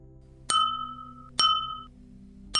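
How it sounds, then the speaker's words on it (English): A glass ding notification chime struck twice in a clear, isolated pattern, each bright ring decaying over about a second, with a third strike starting at the end. "that's clearly a glass ding"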